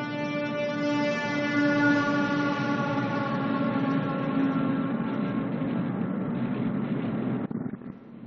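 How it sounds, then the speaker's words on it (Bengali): A passing train sounds its horn in one loud, sustained harmonic blast lasting several seconds, close and overpowering, before the tone cuts off abruptly near the end. "ট্রেনের শব্দ ছিল।"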